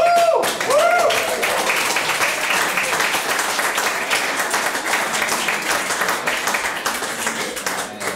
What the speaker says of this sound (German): Wenn wir jetzt schon einmal applaudieren,